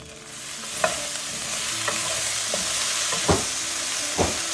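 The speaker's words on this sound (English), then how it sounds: "You're gonna want to hear that good sizzle in there." A steady hiss of sugar snap peas sizzling in a hot pan, with a few soft clinks and scrapes of stirring.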